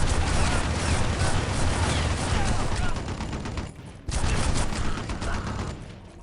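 A heavy machine gun in the shooter Red Faction 2 fires in a dense, continuous roar of rapid rounds, loud and close, breaking off briefly and then resuming.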